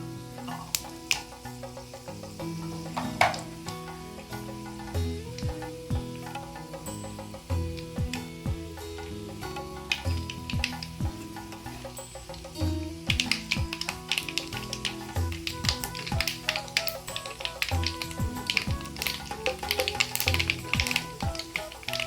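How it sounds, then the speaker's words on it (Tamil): Mustard seeds splutter in hot oil while tempering for a bottle gourd and cowpea curry. Sharp popping clicks crackle irregularly and grow denser and louder toward the end. "கடுகு பொரிஞ்சிச்சு"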